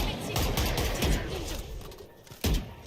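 Bursts of video game gunfire crackle over steady background noise, with a sharper volley near the end.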